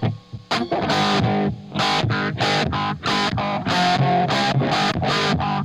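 An electric guitar played through a pedalboard echo effect, with distorted chords struck in a repeating rhythm whose repeats carry between strums, loud and alone with no talking.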